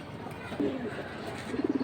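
Soft, low cooing from high-flying Giribaz pigeons sounds close by, a short murmur midway and a rhythmic burst of cooing at the end, over a noisy background.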